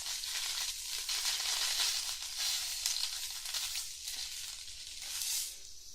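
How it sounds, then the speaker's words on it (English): Sausages fry in a pan with a continuous, close hissing sizzle that swells and eases slightly over several seconds, with no voices. "I'm just waiting for the sausages to get kind of cooked all the way"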